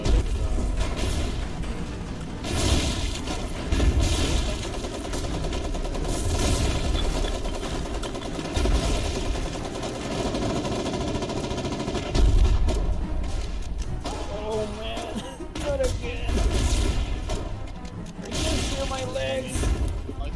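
Foxhole battle din of distant gunfire and ricocheting rounds under a constant roar of noise, with scattered thuds and booms running throughout and occasional voices mixed in.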